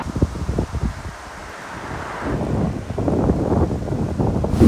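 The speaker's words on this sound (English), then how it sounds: "Proper windy this morning, and it's sort of coming at us from the side." Strong wind buffets the microphone in heavy, rumbling gusts from the side on an uphill cycling route in China, building toward the end with a brief lull in the middle.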